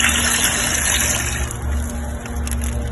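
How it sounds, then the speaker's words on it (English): Water pours steadily into the water chamber of a turkey smoker, a loud continuous gushing rush with a faint constant hum beneath it. "Filling the water chamber"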